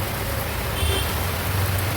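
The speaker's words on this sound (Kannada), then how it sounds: "ನೋಡಿ ನೀವೇ ಯಾವ ರೇಂಜಿಗೆ ಬರ್ತೈತೆ ಮಳೆ ಅಂತ ನೋಡಿ." Heavy rain pours steadily around a Swiggy delivery rider out on the road, a dense, constant wash of noise with a low rumble underneath, close and unbroken for the whole stretch.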